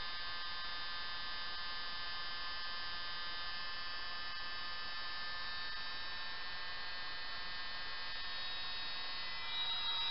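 A small 5V blower fan runs with a steady whine and hum as its supply voltage is raised, a continuous, moderately faint sound with no voices.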